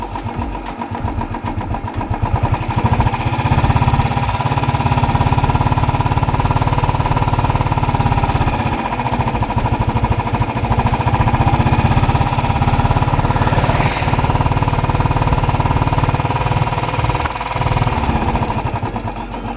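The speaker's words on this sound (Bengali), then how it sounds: "গাড়িটা হঠাৎ করে খুবই বাজে মিসিং মারছে।" A Royal Enfield motorcycle engine running around 2000 RPM with a misfire, loud steady thumping idle with uneven fluctuating beats continuing throughout, no talk.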